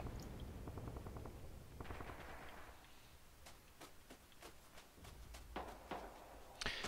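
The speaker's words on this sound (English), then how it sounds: "German artillery." German artillery fire in a World War II video game, a string of sharp, fairly distant booms and cracks spread irregularly across the stretch amid low battlefield rumble.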